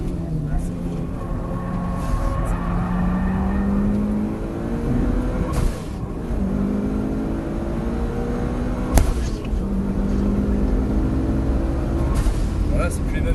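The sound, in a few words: Robin Evo 8 race car driving on track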